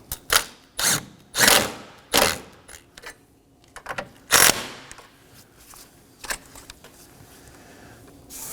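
Ratchet and wrench clicks snugging down battery hold-down nuts on a 2015-2023 Nissan Maxima, in loud close bursts of rapid ratcheting separated by short pauses, then softer scattered taps.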